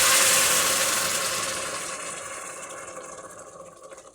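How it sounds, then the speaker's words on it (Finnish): About a litre of boiling water poured into a large pot, a steady bright rushing gush that slowly tapers and fades over several seconds. "Eli litra meni kiehuvaa vettä sinne."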